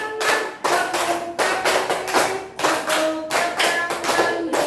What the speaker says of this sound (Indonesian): Bertepuk tangan, tepuk